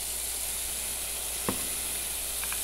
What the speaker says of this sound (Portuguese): Vamos deixar isso aqui refogar